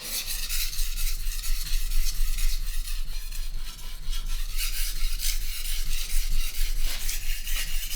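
A kitchen knife is drawn steadily across a 1000 grit whetstone, making a close, continuous rasping scrape that comes in repeated strokes, with no talk.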